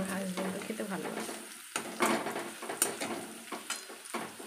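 Food frying in a pan while being stirred, a continuous sizzle broken by repeated scraping strokes of a utensil against the pan, close and moderately loud with no talking.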